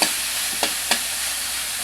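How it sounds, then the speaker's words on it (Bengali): Eggplant pieces being stirred in a pan over a soft steady sizzle, with three distinct scraping clacks of the spoon close up, and no voices. "বেগুন সিদ্ধ হয়ে আসছে, একটু নাড়াচাড়া করে"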